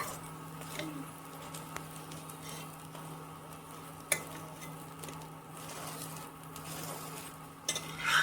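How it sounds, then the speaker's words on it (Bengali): An aloo paratha fries on a flat pan while its edges are pressed down, giving a low steady sizzle with soft scraping and an occasional light clink of utensil on metal. "যাতে সব জায়গাটা খুব ভালো করে ভাজা যায়"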